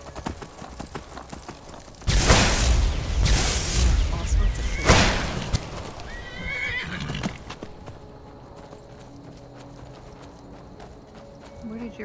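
A horse in the video game Skyrim whinnies loudly, then hooves clip-clop in quick bursts before the sound tapers into quieter game ambience.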